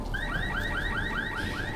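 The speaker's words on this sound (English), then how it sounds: "car alarm" A repeating electronic car alarm from the video game Secret World Legends, its rising whoop cycling rapidly and steadily, loud and continuous on its own with no talk.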